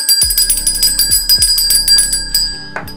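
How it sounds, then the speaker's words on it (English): A bell is struck several times in a quick ringing sequence, bright sustained tones overlapping with sharp attacks, loud and close, ending with a brief scrape. "ring the bell to that"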